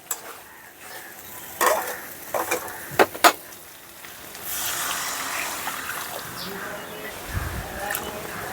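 Fried potatoes being stirred into spices in a frying pan for Bengali aar fish curry: a spoon clinks and scrapes against the pan several times over a low sizzle, then a louder burst of frying. Someone talks over it.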